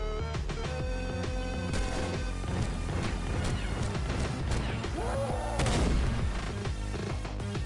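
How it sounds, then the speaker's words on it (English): Cannon fire lands a heavy hit in XPiratez, a crashing boom amid a dense clatter of gunfire and impacts, loud and continuous throughout. "solid hit. That's a cannon."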